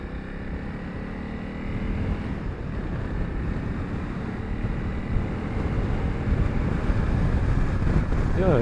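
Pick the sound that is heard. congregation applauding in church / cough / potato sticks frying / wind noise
wind noise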